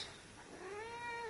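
A small cat gives a single drawn-out meow that rises and then holds, close by and clear over a quiet indoor background, with no one talking.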